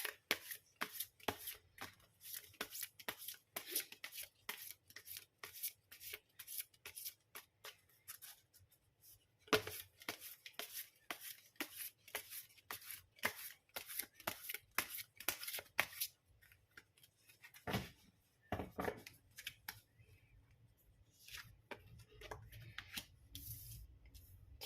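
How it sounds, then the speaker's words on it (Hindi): Tarot cards being shuffled by hand, close and quiet: rapid crisp riffles and flicks in repeated bursts with short pauses between, no talking. "मैं करती हूँ यहाँ पर कार्ड्स शफल"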